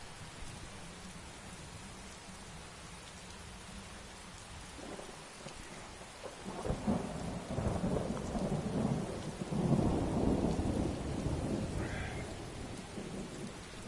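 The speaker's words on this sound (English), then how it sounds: "Sounds of thunder" A Skyrim thunderstorm: soft rain patters steadily, then rolling thunder rumbles in about halfway through and swells loudly with the rain before easing. No one speaks.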